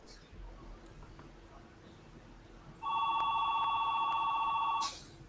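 A telephone rings with an incoming call, a steady electronic double-tone ring holding for about two seconds, loud and clear over a quiet room with faint background voices.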